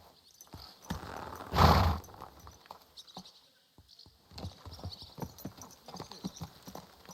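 Horse hooves clip-clop on the ground in the medieval video game Kingdom Come Deliverance 2, a loose irregular patter of steps with one louder thud, fairly close and with no talking.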